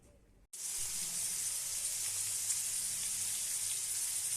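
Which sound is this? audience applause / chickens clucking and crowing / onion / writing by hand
onion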